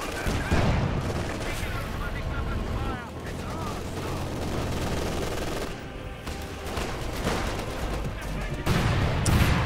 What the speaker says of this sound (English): Cluster bombs dropped mid